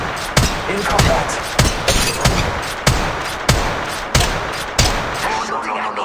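Gunfire in the Apex Legends Mobile video game, a series of loud sharp shots at a steady rhythm about every half second to a second, close and punchy, with a voice briefly speaking among them.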